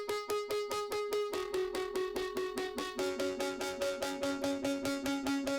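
Rhodes electric piano playing a repeated rhythmic chord pattern in the chorus of a band track, steady pulsing notes that shift to lower chords partway through, loud and close with no talking.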